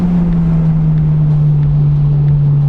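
A Mazda Miata NC with an aftermarket race exhaust hums continuously at a constant low pitch, loud and close, with no talking.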